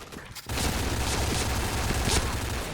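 Heavy gunfire from a shooting video game, with shotgun blasts among dense, loud, continuous shots that begin abruptly and keep going without pause.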